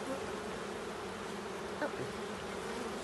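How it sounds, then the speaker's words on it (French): Honeybees buzz steadily at a beehive, a soft continuous drone of many insects close by with a brief stronger pass partway through, and no talking. "on voit une abeille qui ramène du pollen sur ses pattes"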